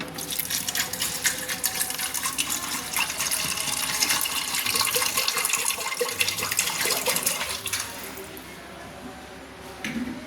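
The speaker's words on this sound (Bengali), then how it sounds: "তাতে আমি জল ঢেলে দিলাম।" Water poured into a pressure cooker holding fried mung dal, a steady splashing gush that runs close and fairly loud for most of the stretch before thinning out near the end.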